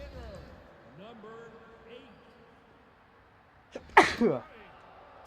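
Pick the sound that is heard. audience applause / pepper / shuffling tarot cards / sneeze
sneeze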